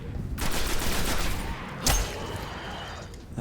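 Gunfire in the Destiny video game: a rapid burst of shots fills the first seconds, followed by a single sharp loud crack near the middle, then fading rumble.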